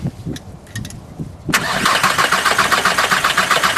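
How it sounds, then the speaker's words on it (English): A diesel engine with its injector lines cracked open is cranked over by the starter. After a quiet stretch with faint clicks, a loud steady churning crank starts abruptly and runs on with an even, pulsing rhythm. "just don't stop cranking, and then I'll tell you to crank again"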